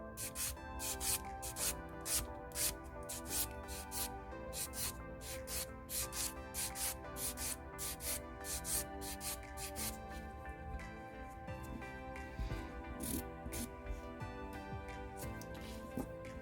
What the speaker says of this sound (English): I tend to take a long time filing, because I feel like, honestly, filing can fix almost any mistake that you make in dipping